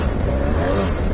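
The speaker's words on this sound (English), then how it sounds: "That's clutch slip." A vehicle engine revving hard on a worn, slipping clutch during a demo ride, a steady loud droning roar that stays at a high pitch without picking up, filling the whole moment with no talking.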